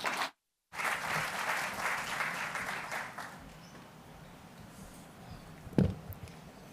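An audience at an urban forests forum applauds as a councillor is welcomed to the stage, a brief burst of clapping that fades after a few seconds into room hush, with a single thump near the end.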